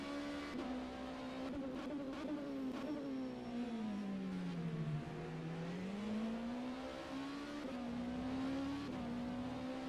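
An LMP2 prototype race car in a racing sim laps Spa in tricky conditions, its engine droning steadily and close, the pitch sliding down and rising again as it runs through La Source.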